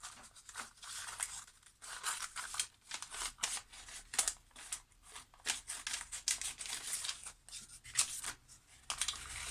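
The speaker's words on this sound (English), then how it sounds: "and cut it out of this piece of paper." Quiet, rhythmic snipping of scissors cutting a collage out of a sheet of paper, a steady run of close, soft cuts with faint paper rustle between them.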